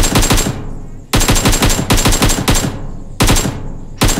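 Loud, rapid machine-gun bursts from a video game on the Miramar map repeat in several long strings separated by brief pauses, harsh and close with no voices.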